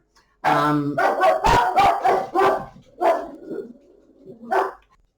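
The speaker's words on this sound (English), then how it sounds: "My dog's decided to bark at some cars going by." A dog barks at passing cars, a close, loud burst of several barks with a drawn-out howling tone, then a few more separate barks after short pauses.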